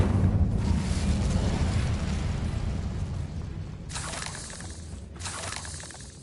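Incendio fire spell cast in the video game Hogwarts Legacy: a loud fiery whoosh bursts at the start and slowly fades, followed by two sharper crackling flares a second apart near the end.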